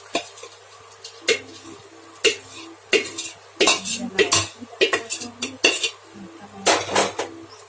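Panjiri being tipped into a large metal parat, heard as a run of sharp clanks and scraping knocks of metal on metal, close and clear, in irregular bursts with brief quiet gaps between them.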